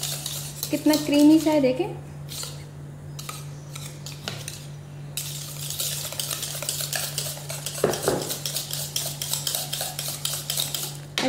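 Sugar stirred into a mango cream dessert mixture, a run of quick rhythmic scraping and clinking of a spoon against a bowl, close up, with someone speaking briefly partway through.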